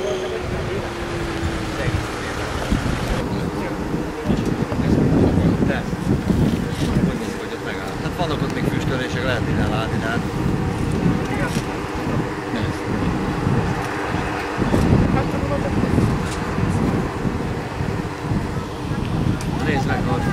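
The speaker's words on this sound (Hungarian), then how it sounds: "fúj a szél" Wind blowing hard across an outdoor microphone, a continuous rough buffeting roar with gusty swells throughout, partly covering voices talking underneath.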